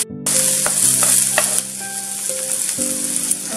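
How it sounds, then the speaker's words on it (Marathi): Chopped onion sautéing in a pan until golden for phodnicha bhaat, a steady close sizzle with scraping stirs and a few utensil clinks, no voices. "परतून द्यायचं कांदा, सोनेरी रंग येईपर्यंत परतून द्यायचं"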